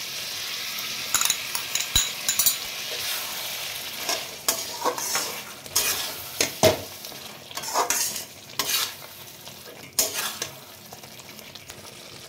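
Mutton curry being stirred in a pan after the lid comes off, a sizzling fry punctuated by repeated scraping strokes and clinks of a utensil against the pan, close and busy throughout.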